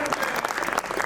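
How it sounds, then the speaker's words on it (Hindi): An audience at a Gurukul annual festival breaks into a burst of steady hand clapping, close and continuous. "इसके लिए स्वामी जी के लिए तालियां बजा दो।"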